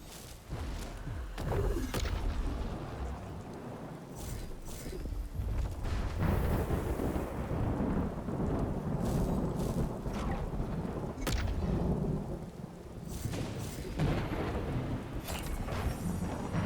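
Rolling thunder rumbles repeatedly through a rainstorm in Skyrim with the Lorerim mod, deep booms swelling and fading over a constant hiss of rain, with sharper cracks at intervals and no talking.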